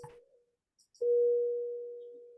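A single steady electronic emergency beep sounds after a faint noise and brief silence, holding a constant tone loud and clear for over a second while slowly fading.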